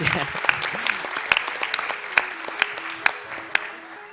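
Several sharp, evenly spaced claps ring out over soft electronic tones from a Pokémon Yellow game, each one brief and crisp.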